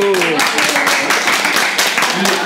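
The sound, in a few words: applause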